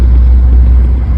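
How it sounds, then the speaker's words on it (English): An airplane passes low overhead next to Newark Airport as a loud, steady, deep rumble that fills the whole short moment. "there goes a plane coming over"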